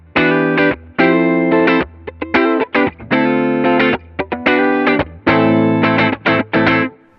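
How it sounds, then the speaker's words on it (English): A clean electric guitar tone, still dry, plays into a Matthews Effects Astronomer V2 reverb pedal rig: bright, sustained chords and single notes in clear phrases with short gaps, loud and close, with no voices. "This is my guitar."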